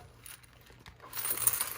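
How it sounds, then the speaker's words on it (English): Coins clink and rattle softly as they are handled and sorted into cash envelopes, a brief quiet metallic jingle that grows slightly louder toward the end. "you can see all the coins."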